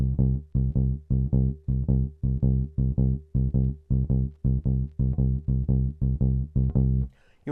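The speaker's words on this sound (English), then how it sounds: "we're going to play shuffle eighth notes" Bass guitar plays blues shuffle eighth notes, a lilting long-short pattern of deep, round plucked notes in pairs, repeating evenly and clearly on its own before a faint scrape at the end.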